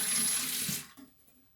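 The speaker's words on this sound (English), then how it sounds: "rinse the brush" Running tap water rinses a paint brush at a sink after stencilling, a steady close splashing rush that cuts off after about a second, leaving a few faint drips.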